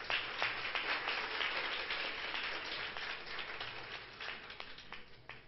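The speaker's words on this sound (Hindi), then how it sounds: "जोर से तालियां बजाइए।" A church congregation at a Christian worship service claps loudly and steadily, many hands together in a fairly distant wash of sound that fades slightly toward the end, with no voices over it.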